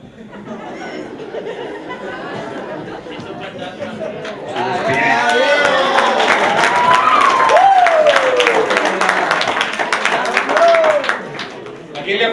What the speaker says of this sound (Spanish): ¿A quién le aplauden si no está?